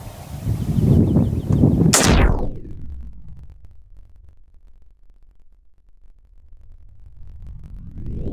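A rifle shot sets off binary explosive beneath a bag: a single sharp, loud blast around the two-second mark, preceded by outdoor rumble and followed by a long fading echo and quiet.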